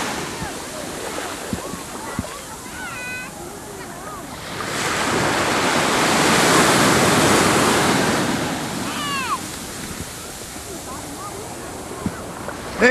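Surf breaking on a quiet beach, a steady wash of waves that swells into a louder, closer roll midway before easing back, with faint voices and wind in the background.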